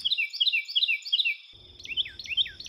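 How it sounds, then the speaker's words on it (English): Birdsong from two regional dialects of the same species: first a series of bright, rapid whistled phrases repeating in quick rhythm, then a second population's song with swooping, slurred notes over faint background noise. "Let's compare some more birdsong dialects."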